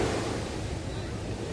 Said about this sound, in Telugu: రికార్డింగ్ చేసినప్పుడు మాత్రం వేవ్స్ ఎక్కువ వస్తుంది